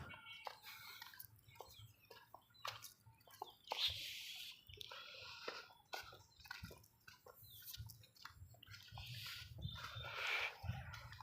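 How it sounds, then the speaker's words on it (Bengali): Chickens cluck in short, scattered bursts near a railway line, faint and fairly close, with occasional louder squawks over low background noise. "এই যে মুরগি পালে এখান দিয়ে দেন কত সুন্দর লাগে মুরগি পালাগুলো"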